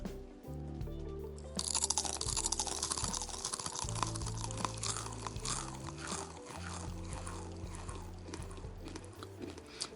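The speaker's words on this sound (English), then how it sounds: "Crunch number 1 is the plantain chips." Someone bites and chews plantain chips close to the microphone, producing a dense run of loud, crisp crunches that continue steadily for several seconds.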